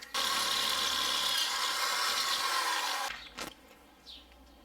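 A power drill bores holes through a metal plate while separating a VR6 transmission, a loud, steady whine running close for about three seconds before stopping, followed by a few faint clanks and handling sounds.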